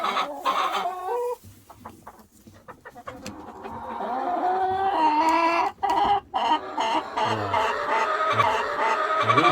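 Chickens cluck and squawk close by as they are fed, a busy run of overlapping calls with a few short pauses and some wild birds mixed in.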